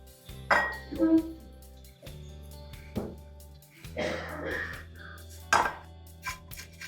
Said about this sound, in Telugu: సో ఇప్పుడు దీన్ని ఈ బౌల్లోకి షిఫ్ట్ చేసుకోండి